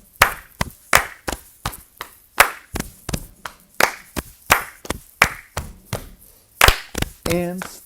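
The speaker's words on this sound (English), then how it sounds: "If you're having a hard time, follow the clap." Crisp, close hand claps in a steady rhythmic pattern, leading a third-grade class to follow along, with a brief voice starting right at the end.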